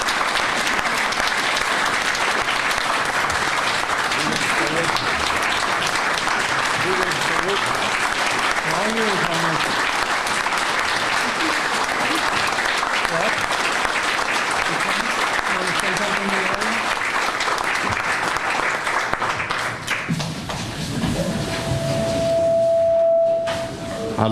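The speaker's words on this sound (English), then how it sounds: "So I would again, your applause for Homer." An audience at a Purple Heart dedication and medal ceremony applauding veteran Homer Allem, loud, sustained, even clapping that fills the room for about twenty seconds, then fades as a voice begins speaking.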